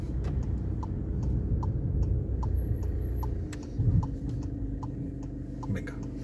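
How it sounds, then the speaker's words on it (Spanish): Turn signal indicator ticking inside a car during a driving lesson for the test area in Sarria, a steady regular tick running under engine and road rumble with no talk. "Intermitente."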